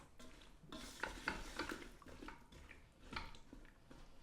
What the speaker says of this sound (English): give it a stir. Just to mix the sugars around and just get everything coated nicely